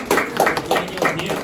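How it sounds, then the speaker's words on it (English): Audience clapping hands at a talk on big data, a short burst of a few hand claps close and fairly loud. "maybe you can clap your hands"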